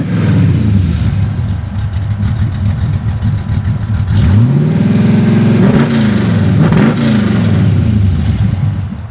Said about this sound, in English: New exhaust on the Camaro.